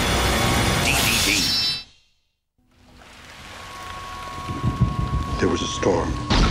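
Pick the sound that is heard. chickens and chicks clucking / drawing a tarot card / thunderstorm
thunderstorm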